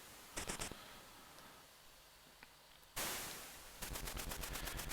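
Enemy gunfire in the Commodore 64 game The Train comes as short rapid machine-gun bursts: a brief volley early on, then after a pause a harsh noisy blast and a steady rattling burst, loud and without talk.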